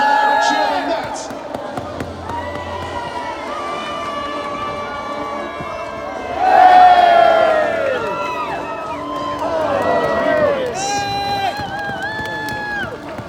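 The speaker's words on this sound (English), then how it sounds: "He likes a louder cheer than that." An outdoor jousting arena crowd cheers and shouts in loud swells, rising sharply near the middle and again toward the end. An announcer talks over the noise.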